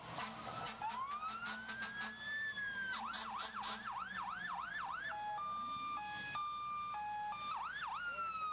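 Several fire truck and ambulance sirens in a county fair parade wail and yelp at once, rising sweeps and rapid warbles alternating with two-tone blasts, loud and close as the vehicles pass.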